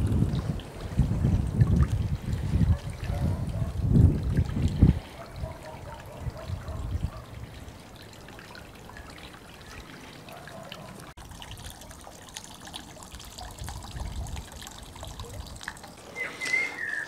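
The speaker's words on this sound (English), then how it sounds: "trickle-ish bit of noise, bit of water movement" Low, continuous water trickling and gurgling through a pond bog filter, with a rumbly burble at first, settling into a quieter steady flow.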